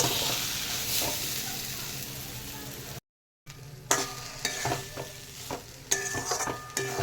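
Boiled taro leaves are stirred and fried dry in a pan, giving a close, steady sizzle with scraping stir strokes. Sharper clinks of a spatula against the pan follow a short gap.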